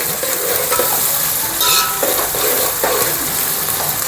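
Onions and green chillies frying to golden in hot oil, a loud dense sizzle with utensil stirring scrapes breaking through, close up with no voices.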